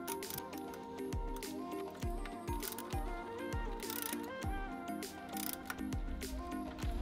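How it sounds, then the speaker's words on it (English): Ratchet with a small extension and 11 mm socket tightening intake clamps on a Cadillac CTS-V Sport or ATS-V, sped up, giving rapid repeated clicking strokes in a steady rhythm over continuous mechanical clatter and background music. "Here we're just using a small extension and 11 millimeter socket."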